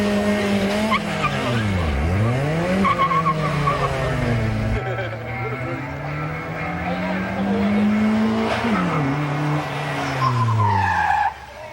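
Car doing burnouts at Summernats, loud engine revs rising and falling in repeated sweeps with sustained tyre squeal and skidding, close and intense, a voice briefly heard over it.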